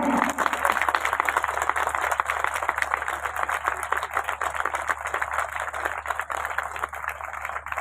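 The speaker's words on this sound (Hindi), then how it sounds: "जोरदार तालियां।" Steady applause from a crowd, a dense, continuous patter of clapping that holds at an even level throughout.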